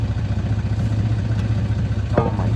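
A 1990 Toyota pickup engine idles close to the exhaust with a steady, rumbling low pulse and a faint brief squeak near the end.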